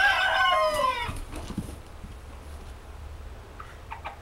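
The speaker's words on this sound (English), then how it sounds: "Have you ever seen Silkies wrestle? Yeah, Silky Banty's wrestling." Silkie bantam chickens wrestle, opening with a loud, harsh squawk up close, followed by soft scuffling and a few faint clucks.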